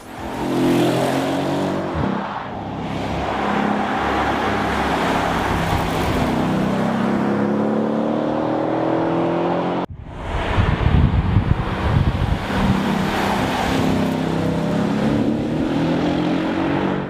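A Mercedes E-Class V8 engine roars through repeated accelerations on winding Spanish mountain roads, pitch climbing as it revs, with a brief shift break and strong wind rush over the microphone.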